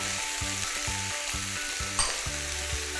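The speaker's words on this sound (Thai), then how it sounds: "ผัดจนทุกอย่างสุกแล้วก็เข้ากันเป็นอย่างนี้นะคะ" Tomato, onion and sugar stir-fried in a pan for a stuffed Thai omelette filling, giving a steady close sizzle with a regular rhythm of spatula scrapes and one sharper clink near the end, no talking.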